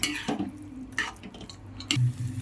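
Potatoes are mixed with masala in a pan for Madurai masala pottalam, giving soft scraping and stirring knocks with a few sharper utensil clinks, close by and with no talk.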